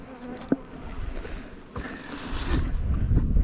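Wasps and bees buzzing around a backyard beehive, a close, continuous droning hum with outdoor wind noise and no voices.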